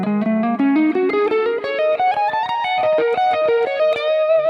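An electric guitar plays a minor pentatonic run with a flat 5, starting from the flat 7 as a pickup. The distorted, effects-laden notes climb quickly in an even flowing line, then turn back down. The guitar is loud and close, with no voice.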